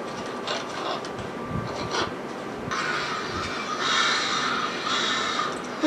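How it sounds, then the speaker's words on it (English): Crows caw repeatedly in a rough, scattered chorus among mechanical clatter and background noise in a Game of Thrones episode, with calls overlapping at moderate loudness and no one speaking. "Too many crows."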